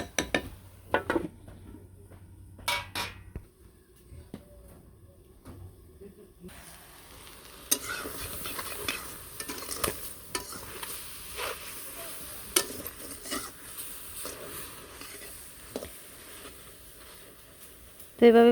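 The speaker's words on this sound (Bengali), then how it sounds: "ভালো করে ভেজে নিমু" Food is fried and stirred in a pan at home in a Bengali kitchen, with a low sizzle, scraping spoon strokes and light clinks under occasional talk.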